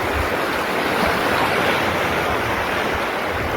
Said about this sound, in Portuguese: Olha o barulho da água.